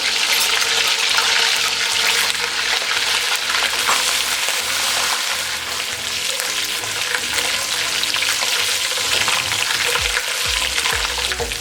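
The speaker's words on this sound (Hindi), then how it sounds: "अब इसमें अदरक लहसुन का पेस्ट डाल देंगे। साबुत गरम मसाला डाल देंगे और 1 मिनट के लिए इसे फ्राई कर लेंगे।" Ginger garlic paste and whole garam masala fry in hot oil for a masala biryani, a loud, continuous crackling sizzle broken by scraping stirs throughout.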